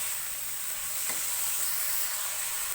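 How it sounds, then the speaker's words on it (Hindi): Chicken fried rice sizzles steadily in a hot pan as vinegar is stirred through it, a dense, even hiss close up with a faint scrape of the spatula partway through and no talking. "One table spoon vinegar, mix करेंगे अच्छी तरह।"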